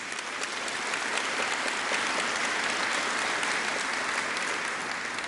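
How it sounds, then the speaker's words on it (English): Audience applause at the 2014 Rocky Top opening ceremony in Sevier County, a steady, dense wash of many hands clapping at even loudness throughout, with no voices over it. "a round of applause for them"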